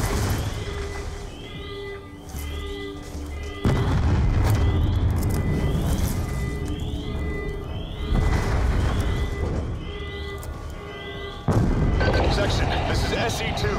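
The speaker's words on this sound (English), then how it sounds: "We're monitoring multiple explosions across the facility." Repeated explosions and artillery-like booms fill a battle scene in the video game Call of Duty: Black Ops 2, loud and sustained with heavy blasts landing around 4, 8 and 11.5 seconds over a constant rumbling din, with game voices talking.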